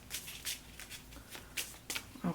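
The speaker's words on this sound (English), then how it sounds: "I want one more shuffle." A deck of tarot cards is shuffled in a few quick riffling bursts, soft papery flutters spaced unevenly and heard close up with no talking.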